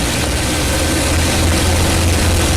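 A P-51 Mustang's piston engine and propeller run at 2,700 RPM during aerobatic flight, heard from the cockpit as a loud, steady, unbroken drone with deep low rumble throughout.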